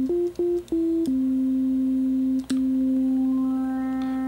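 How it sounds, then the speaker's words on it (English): OP-1 synthesizer producing a pure sine wave tone, a few short clipped notes stepping in pitch and then a long sustained steady tone with a couple of clicks, loud and alone. "sine wave kind of sound."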